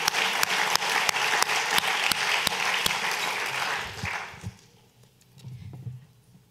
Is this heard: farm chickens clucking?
no